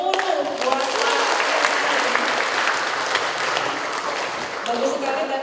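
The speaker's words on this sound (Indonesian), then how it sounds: "Aplaus yang meriah, atau kalau anak milenial itu beri tepuk tangan yang gemuruh" Thunderous applause from a seminar audience, a thick, sustained roar of many hands clapping that stays loud and even throughout, with a few voices mixed in.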